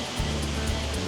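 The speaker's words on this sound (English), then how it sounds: "Little waterfall there" A small waterfall by the entrance bridge of a resort with frog statues, giving a steady, broadband splashing rush close by, with no talking over it.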